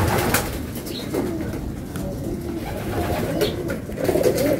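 Racing pigeons coo softly a few times over a constant low rumble of outdoor background noise, moderately close, with no clear speech.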